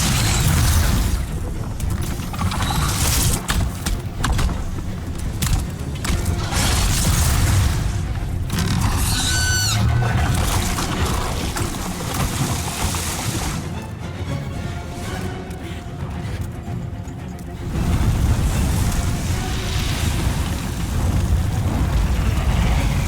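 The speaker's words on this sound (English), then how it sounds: "here you can take damage from the fire bolts and you can take damage from the spider" Fire bolts and an Armour Spider boss attacking in Demon's Souls: loud, continuous booming blasts and crackling bursts that roll on and swell again near the end, with no voices.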